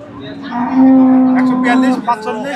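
A Friesian cross dairy cow at a cattle market lets out one long, loud, close moo lasting over a second, with faint market chatter around it.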